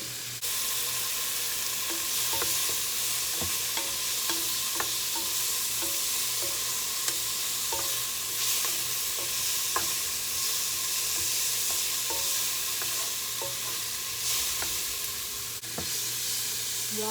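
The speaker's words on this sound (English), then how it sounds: "to my pan I have added my onion and my garlic. We're just going to saute that a little bit." Chopped onion and garlic sauté in a hot pan with a steady, loud sizzle throughout, punctuated by occasional light scrapes and stirs of a utensil.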